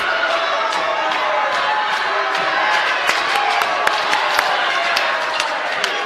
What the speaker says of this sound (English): Crowd pretty fired up, I'd say